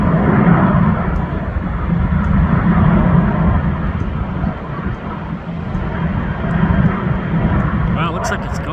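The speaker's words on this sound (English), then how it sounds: "Now that is a big airplane." A large airplane flying overhead, its steady broad engine roar rumbling loudly and evenly throughout without fading.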